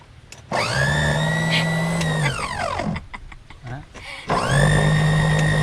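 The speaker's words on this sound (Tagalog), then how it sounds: "Subukan muna nating i-blend ang mga prutas bago natin lagyan ng maraming ano" Electric blender whirring loudly as it blends mango and other fruits for a fruit shake, spinning up, straining and winding down, then starting again after a short pause, with people talking over it.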